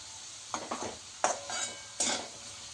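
Potatoes fry in oil in a non-stick pan while a spatula stirs them, producing a quiet sizzle with a few louder scraping bursts spaced out.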